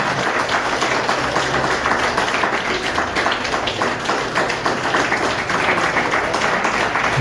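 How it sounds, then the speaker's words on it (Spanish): A church congregation claps together through a worship service, a dense and steady wash of many hands that holds at an even level the whole time with no speech on top. "Hermanos, apláudele más fuerte."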